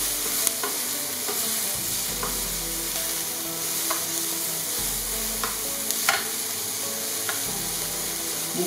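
Cherry tomatoes with herbes de Provence, parsley, rosemary and basil sautéing in a pan, giving a steady close sizzle with occasional light taps and scrapes of stirring, no talking.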